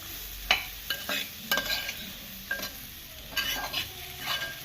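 Green mango pieces for pickle stirred and sautéed in a pan, with a soft steady sizzle under repeated scraping strokes of a spoon against the pan at an uneven rhythm, close and fairly quiet.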